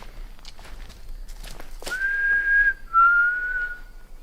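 Two long, steady whistled tones ring out loud and close in dark woods at night, the first higher and the second slightly lower, after a few seconds of faint rustling and footsteps.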